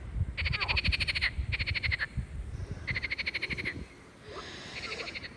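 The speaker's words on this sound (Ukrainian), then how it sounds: "Жаби пісні співають свої." Several frogs croaking in rapid, rattling trills that start and stop in bursts in Gagarin Park, Kryvyi Rih, Ukraine, with a low rumble of background noise underneath.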